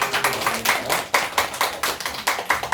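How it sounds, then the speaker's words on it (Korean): A church congregation at a children's worship service claps together, distinct rhythmic hand claps close and fairly loud, with no voices over them. "우리 다시 한 번 더 박수"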